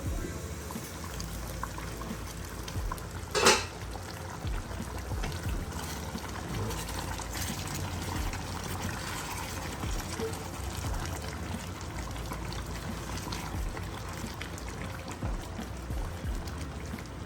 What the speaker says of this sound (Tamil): கொஞ்சம் தண்ணி ஊற்றுவோம், திக்காக இருக்குது.